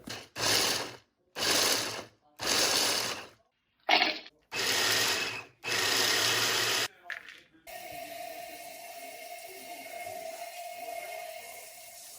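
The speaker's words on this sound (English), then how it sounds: "So I've got this in my food processor here. and I'm going to chop these up." Food processor chopping walnuts for a Christmas dessert, in about six loud whirring pulses separated by short pauses, followed by a quieter hum after the last pulse.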